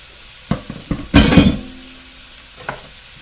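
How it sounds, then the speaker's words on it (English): Tomatoes for a chayote chowder drop into a hot pan with a burst of sizzling and stirring, framed by a few sharp utensil clinks against the pan before and after. "Now I'm going to add my tomatoes."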